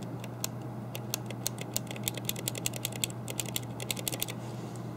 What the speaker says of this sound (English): You press the key down and you hear that click.